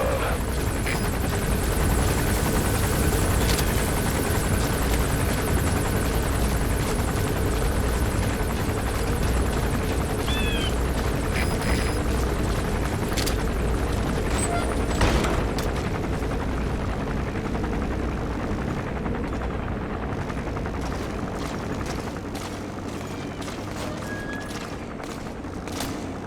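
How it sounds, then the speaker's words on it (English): Patrol helicopter of an arms dealer in the video game Metal Gear Solid V, a loud, continuous rotor thump and engine roar that holds steady throughout, slowly easing slightly toward the end, with no talking. "Looks like the arms dealer's chopper is gonna patrol for the security forces."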